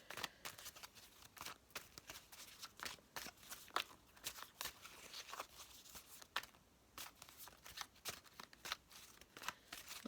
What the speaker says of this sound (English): These do go all over the place when I'm shuffling them.